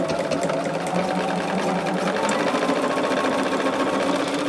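A sewing machine stitches fabric pieces together in a continuous, steady, loud mechanical whir with rapid needle chatter, nearby and without any voices.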